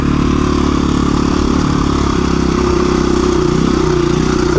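A KTM dual sport motorcycle riding a Mojave Desert trail, its engine loud and steady at close range with a slight labouring note, as if held in too high a gear.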